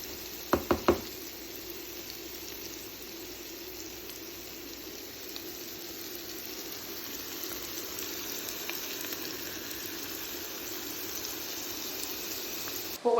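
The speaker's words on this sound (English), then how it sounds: "just mix all that seasoning into that and just let that simmer for a little while" Seasoning mixture left to simmer in a pan for a puff pastry meat pie, giving a low, steady bubbling hiss that runs throughout, with a few sharp knocks near the start.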